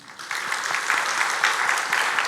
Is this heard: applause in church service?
yes